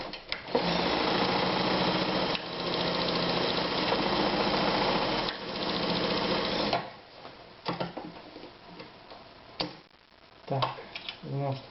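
An Anker Phoenix Excelsior ZZ 151 sewing machine runs a zigzag stitch, a loud steady mechanical hum and rapid ticking for several seconds. It then stops, leaving quieter clicks and handling noises.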